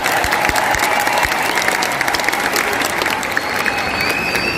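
A large audience claps at an anniversary event in an indoor hall, a loud, dense spread of applause with a few sharp individual claps standing out, running steadily for several seconds without talk.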